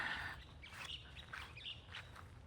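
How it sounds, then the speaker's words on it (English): Birds calling overhead in a spring garden, a few brief chirps and squawks repeating irregularly at a moderate distance over faint outdoor background noise. "I got birds overhead."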